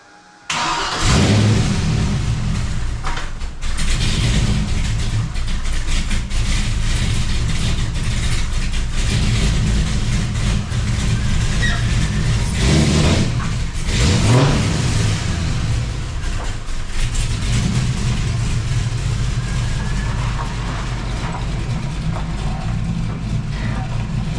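A Chevrolet C10 pickup with a newly swapped intake cranks and starts, then settles into a loud, steady, rumbling idle nearby, with a couple of throttle revs swelling midway through.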